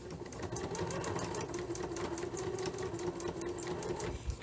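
Home sewing machine running steadily while stitching a fabric face mask, a close, even mechanical whir with rapid regular needle ticks throughout, fairly quiet, with no talk over it.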